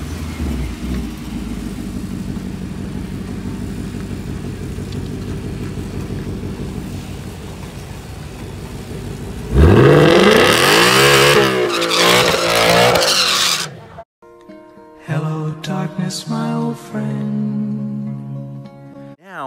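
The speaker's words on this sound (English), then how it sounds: "I got to a point where I can actually do really healthy burnouts, get the tires nice and warm" A 2018-19 Ford Mustang GT revs loudly, then breaks into a roaring burnout on line lock with screeching tire squeal and engine rising in pitch, before cutting off into brief rev bursts.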